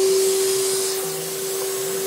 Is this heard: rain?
no